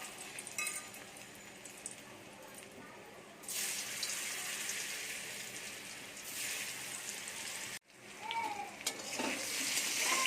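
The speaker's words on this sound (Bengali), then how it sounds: "এরপরে সেদ্ধ করে রাখা কচুগুলোকে ভেজে নেব" Boiled taro pieces fry in hot oil in a wok, giving a steady close sizzle with brief stirring and a short dip partway through.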